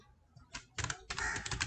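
Java code being typed on a computer keyboard, with a few bursts of quick, close key clicks separated by brief pauses and no voices.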